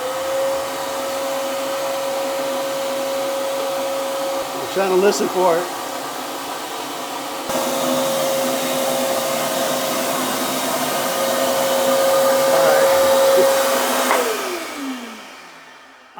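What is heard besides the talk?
vacuum cleaner sucking in a drain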